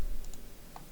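A computer mouse clicks during an Excel 2013 spreadsheet demonstration, giving a few small, sharp, quiet clicks spaced apart over low room noise.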